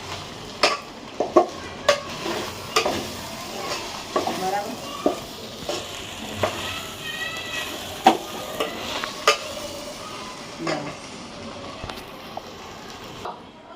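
Leftover rice stirred in a frying pan with a spoon after coriander is added: a faint sizzle underneath repeated scraping and tapping strokes against the pan at an uneven rhythm, close by.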